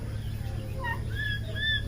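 A few short, tonal calls from a turkey hen kept with chickens, rising and falling chirps spaced over a couple of seconds over a steady low background hum, with no talking.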